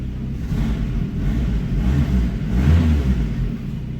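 A Vauxhall Astra Mk5 fitted with a Saab B204 engine runs with a steady low rumble that swells briefly partway through, close by and with no talking.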